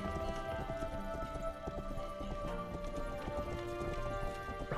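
Horse hooves clip-clopping in a fantasy video game, a steady rhythmic clatter of hoofbeats running continuously at close range over a dense game soundscape.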